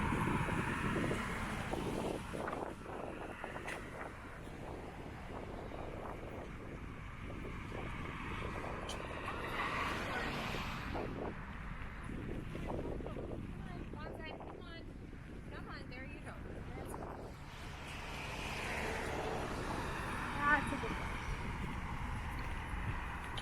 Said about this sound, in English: now it is sort of a bit windy